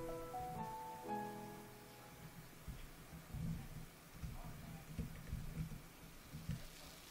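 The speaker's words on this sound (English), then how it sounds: "Ah, yep, I hear it raining out there." Soft, steady rain patters outside in the farming game Fantasy Farming: Orange Season, quiet and continuous with faint low rumbles beneath; a few light musical tones sound at the start and no one speaks.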